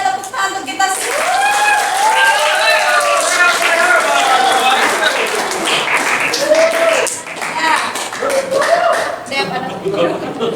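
Classroom applause, a steady, fairly loud patter of clapping hands from a group of students running several seconds, with voices and cheers over the top.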